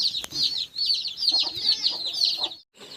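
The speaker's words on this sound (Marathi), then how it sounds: "हे बघा पिले चारत आहे कोंबडी" A free-range country hen clucks in soft, repeated bursts while her chicks peep continuously in a high chorus close by as she leads them to feed.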